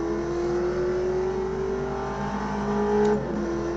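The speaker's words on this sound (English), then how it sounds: "I feel like the sound's not too bad. It does sound very similar to a Viper." Modded Viper-like car in the Automobilista 2 racing game, its engine holding a steady droning rev with a brief rise near the end, heard alone and up close.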